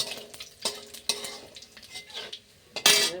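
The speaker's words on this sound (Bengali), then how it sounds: "তেলটা আমার গরম হয়ে গেছে, আমি জিরে ফোড়ন দিয়ে দেবো আর দুটো তেজপাতা, দুটো কাঁচা লঙ্কা, গোটা গরম মশলা আমি ফোড়ন দিয়ে দেবো" Cumin, bay leaves, green chillies and whole spices are dropped into hot oil in a pan, giving bursts of crackling sizzle with a few clatters and a loud hissing flare at the end.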